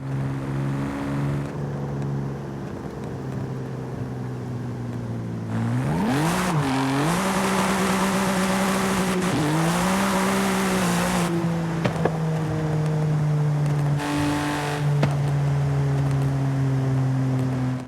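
A BMW M4 engine in Forza Horizon 5 idles with a steady hum, then revs up in several rising pulls and settles back to idle, with no voices.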